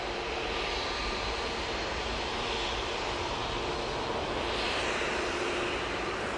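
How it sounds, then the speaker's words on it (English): A TUI Boeing Dreamliner airliner at Manchester Airport produces a steady, faint jet roar with a broad hiss, swelling slightly near the end, heard from a distance without speech. "Beautiful TUI Dreamliner."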